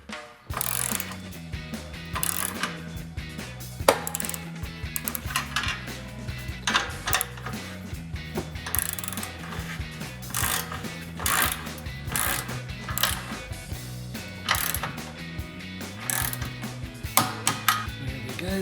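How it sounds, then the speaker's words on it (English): Torque wrench tightening exhaust clamps to 35 foot-pounds during a Borla ATAK cat-back exhaust install on a Charger, with repeated close metallic ratcheting clicks and clanks in steady bursts throughout, no talking. "It's a matter of tightening and setting our clamps to torque"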